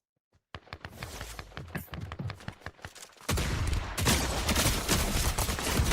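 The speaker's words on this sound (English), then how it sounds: "Why is everybody here shooting me?" Rapid video game gunfire from many shooters in a squad battle royale match, scattered reports at first, then a dense, loud, continuous barrage in the second half.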